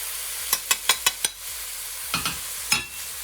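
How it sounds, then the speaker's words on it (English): Chopped tomatoes being stirred in a pan for baingan bharta, with a quick run of five sharp spoon taps and scrapes, then a few more spaced clinks over a faint sizzle, close and clear. "the chopped tomatoes, and you keep stirring it."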